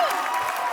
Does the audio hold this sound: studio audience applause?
yes